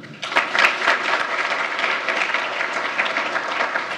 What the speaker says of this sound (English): let them give you a round of applause